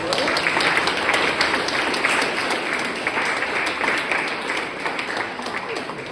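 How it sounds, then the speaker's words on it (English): Sustained round of applause from a room full of people for eight forum panellists, dense and even for about six seconds with no break in the clapping. "Let's give everybody in this room a great big round of applause."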